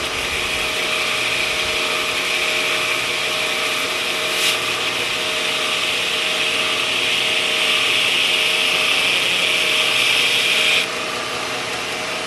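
A knife bevel is ground freehand on a 10-inch grinder wheel driven by a half-horsepower motor at a controlled lower speed. A loud, steady abrasive hiss and motor hum run continuously and up close, with no talking.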